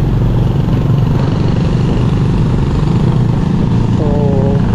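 A large group of BMW motorcycles, fifteen to twenty bikes on a night ride through forest in Kashmir, runs steadily with a continuous close engine drone, and a brief horn-like tone sounds near the end.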